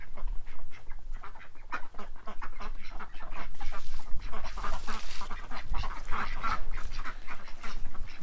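A flock of ducks on a wet orchard ground quack and chatter in a dense, continuous din. Loud, overlapping calls fill the whole stretch, with no talk over them.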